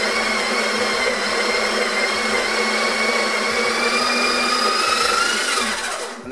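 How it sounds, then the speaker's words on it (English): A Sage Barista Express's built-in grinder runs steadily and loud throughout, a continuous motor whine that shifts slightly higher near the end before cutting out. "I'm gonna extract it now till all the coffee is ground, and you'll hear the motor kind of get slightly higher when it's finished grinding"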